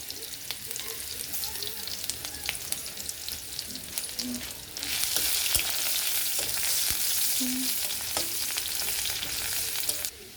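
Chopped onion frying in mustard oil for an Assamese fish curry with tomato sauce, giving a steady, close sizzle that swells noticeably louder about halfway through, with no talking.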